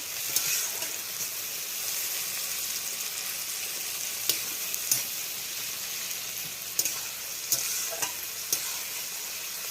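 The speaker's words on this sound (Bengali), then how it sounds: "এই টমেটোটাকে ভালো করে তেলে একদম সেদ্ধ করে একদম টমেটোটাকে একদম পুরো গালিয়ে নিতে হবে" Tomato cooking down in oil into a thick gravy gives a steady, fairly quiet frying hiss, with a few sharp stir clicks and pops scattered across the stretch and no voices.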